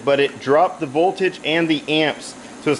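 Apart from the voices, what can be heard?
No everyday noises stand out.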